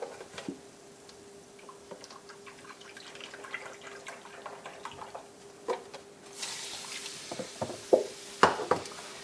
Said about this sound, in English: to this I'm going to add 1 cup of chicken broth